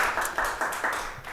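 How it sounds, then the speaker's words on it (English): An audience at a hospitality AI talk claps together in a short, steady burst of applause. "So round of applause to you."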